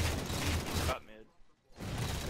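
Boltshot pistol fire in Halo 4 multiplayer, dense bursts of game gunfire and impacts that cut out briefly into near silence before resuming.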